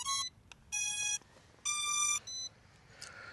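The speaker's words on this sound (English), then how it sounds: "There's a lot of beeping going on." A drone powering on gives several bright electronic beeps in short bursts, some longer tones and a quick double beep, fairly close against a quiet background.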